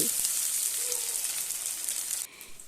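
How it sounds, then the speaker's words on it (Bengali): Pieces of young jackfruit frying in oil in a pan over a medium gas flame give a steady, close, even sizzle with no talk, which thins and drops slightly near the end. "গ্যাসের ফ্লেমটা মিডিয়ামে রেখে এঁচোড়গুলোকে নাড়িয়ে চাড়িয়ে ভালোভাবে লাল লাল করে ভেজে নিতে হবে"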